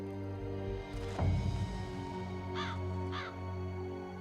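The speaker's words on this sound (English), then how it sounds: "That is a crow." A crow in the video game Dreamfall Chapters caws twice in quick succession, clear and moderately near, after a soft thud, over a steady humming ambient drone.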